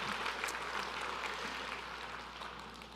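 A church congregation claps during a morning service, a soft wash of applause with a few distinct claps, steady and fairly distant over a low background hum.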